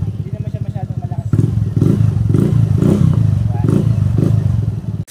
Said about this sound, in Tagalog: So proceed tayo sa iba nating muffler, sound check din tayo.